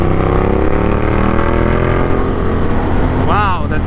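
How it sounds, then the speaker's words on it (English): A 2015 Ducati Diavel motorcycle in sport mode revs loudly and close by, its engine note climbing steadily in pitch. Near the end a quick rising-and-falling rev flourish sounds, and a voice is faintly present. "the sound of this motorcycle is just beautiful"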